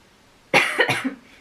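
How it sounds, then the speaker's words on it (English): A short, close burst of two or three coughs from a young woman, loud against a quiet indoor background. "I don't know why I'm coughing"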